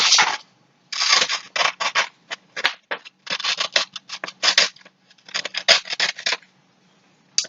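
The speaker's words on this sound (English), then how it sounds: "And we can cut your strip out." Scissors cut a strip out of paper for a caterpillar craft, in quick close bursts of snipping strokes with short pauses between runs.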